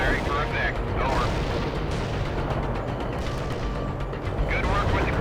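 An artillery strike lands in the World in Conflict strategy game with a heavy, sustained explosive rumble that fills the scene, and radio-style voices speak over it.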